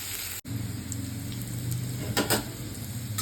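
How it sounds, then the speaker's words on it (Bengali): Steady oil sizzle of bitter gourd frying in a pan, broadband crackle with a brief dropout near the start and a few sharper pops later. "তো এইভাবে এই উচ্ছেটাকে ভেজে নেবো"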